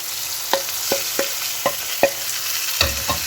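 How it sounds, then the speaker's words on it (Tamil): Prawns stirred into softened, sautéed tomato in a pan, a low continuous sizzle broken by about seven sharp spatula taps against the metal. "இறாலை சேர்த்து இந்த மாதிரி நல்லா மிக்ஸ் பண்ணி"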